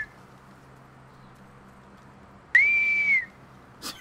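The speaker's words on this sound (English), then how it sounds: "who's whistling, bro?" A single clear whistled note, rising then holding steady for under a second, sounds in The Division 2 over a quiet low hum, followed by a brief sharp noise at the end.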